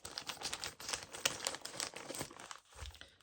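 Scissors snip and crinkle through packaging material at a craft table, a close, quick series of crisp cutting and rustling sounds with no talk.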